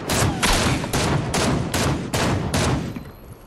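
Rapid bursts of gunfire in Fortnite, several loud shots in quick succession with short gaps, close and dominant, fading out at the end.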